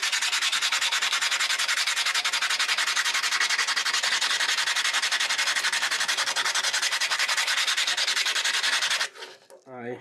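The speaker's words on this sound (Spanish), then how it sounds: "Con mucho cuidadito, con una lija gordita." Coarse sandpaper rubs steadily against a car brake pad in a workshop, a dense, continuous scratching grind that runs loud and unbroken for about nine seconds before stopping abruptly.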